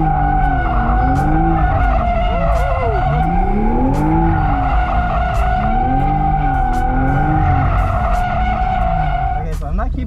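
Toyota GR Supra drifting around cones: loud continuous tire squeal with a wavering pitch over a roaring, revving engine, sustained throughout at close range, with a voice talking underneath.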